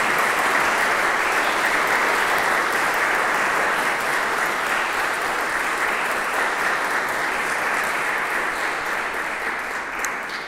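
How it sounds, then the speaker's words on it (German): Sustained applause from a church congregation during a live Protestant worship service, a steady dense wash of clapping that holds evenly for about ten seconds and tapers slightly at the end, with no voices over it. "Vielen Dank und einen großen Applaus."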